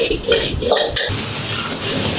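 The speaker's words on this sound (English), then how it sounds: "And then we put all the seafood, lapchang, and the pork lard, cook it together." Seafood, lap cheong and pork lard stir-fried together in a hot pan for char kway teow, with scraping stirs in the first second giving way to a steady, loud, close sizzle with no talk.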